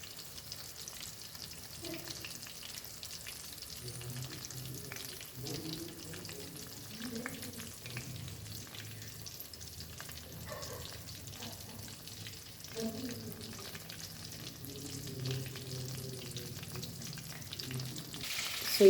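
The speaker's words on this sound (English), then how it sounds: "And fry this till nicely golden brown." Chicken deep-fries in hot oil until golden brown, a soft, steady bubbling sizzle with occasional louder crackles, fairly faint and unbroken throughout.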